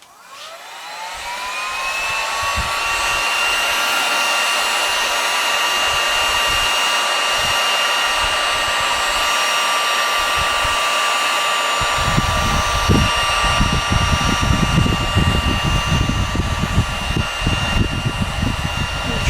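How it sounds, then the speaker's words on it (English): A heat gun shrinking heat-shrink tubing onto an Apple charging cord, a loud, steady blower roar that spins up over the first couple of seconds and then runs continuously, growing rougher and more rumbling in the second half. "all we have to do is take our heat gun and warm it up"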